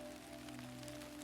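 Rain falls in a soft, steady patter over a low, constant hum, heard briefly and alone.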